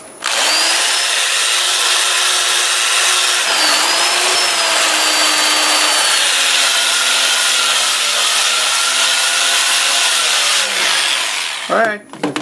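An apple wood bowl being sanded on a spinning wood lathe, a loud, steady, high whirring and rasping hum that holds almost unchanged for about eleven seconds, then ends with a brief rattle as it winds down.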